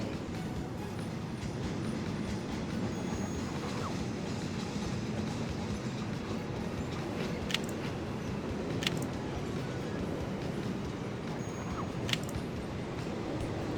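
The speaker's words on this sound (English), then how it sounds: "There's a lot more freight trains here than I remember." A freight train rolls along rails in the video game Conduct DELUXE, giving a steady, fairly quiet rumble with faint clickety-clack and a few brief sharp clicks, with no voices.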